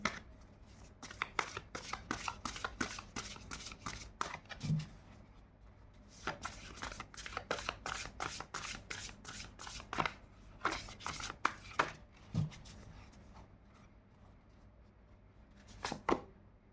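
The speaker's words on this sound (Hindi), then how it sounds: "अब 2 कार्ड्स हम इससे भी लेंगे, इस वाले डेक से, ओरेकल से लेंगे" Oracle cards being shuffled by hand for a reading, with a long run of crisp, rapid riffling flicks and brief pauses, close and fairly quiet, and no talking.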